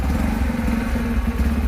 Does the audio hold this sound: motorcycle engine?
yes